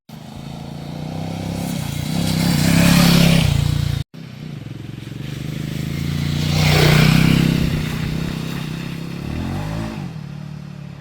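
A Royal Enfield Himalayan 450 motorcycle ridden off-road through mud, its engine rising and falling in two long revving surges with a brief cut-out between, loud and close without speech.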